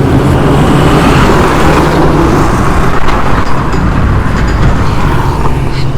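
A 2004 Honda Dio scooter on the move, running on E0 fuel, gives a steady, loud broadband drone of engine and road noise with wind rush throughout, no voices over it.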